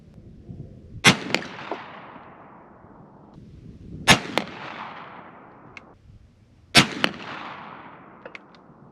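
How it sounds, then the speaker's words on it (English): Three loud, sharp muzzleloader rifle shots, each fired with 65 grains of black powder and followed by a decaying echo downrange, spaced roughly three seconds apart outdoors. "65 grains of black powder going down range"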